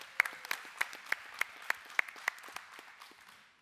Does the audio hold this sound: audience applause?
yes